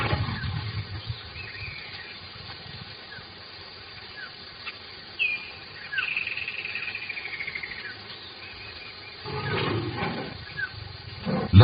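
Wild lions during mating, giving low, rough roars and growls over a background of insects and crickets, with a louder snarling burst near the end.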